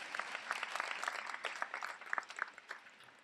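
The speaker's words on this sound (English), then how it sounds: "You can still clap." Scattered clapping from a small audience at a school committee meeting, quiet and uneven, with individual claps popping out of a light patter.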